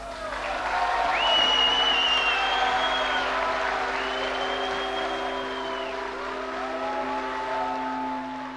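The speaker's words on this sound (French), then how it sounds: "Il y a des applaudissements, il y a aussi, vous l'entendez, des huées." A crowd at a tense political gathering in the Fourons, Belgium, mixes applause with loud jeering, where piercing rising and falling whistles ring out over a constant roar of crowd noise.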